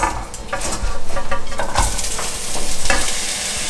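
Onions sizzle steadily in hot oil in a pan, a loud continuous crackling fry with a few scraping clinks of a utensil against the pan.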